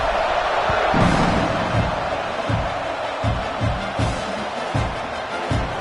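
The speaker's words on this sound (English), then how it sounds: "this crowd is buzzing after that last score" A football stadium crowd buzzes after a score, a dense, steady roar of many distant voices with scattered thumps and claps rising through it and no single voice standing out.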